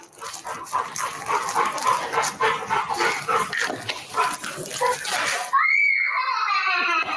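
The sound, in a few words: dog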